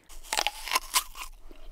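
A sugar lump being crunched between teeth, a short run of crisp crackling bites close up, several sharp crunches in quick succession then fading out, with no talk.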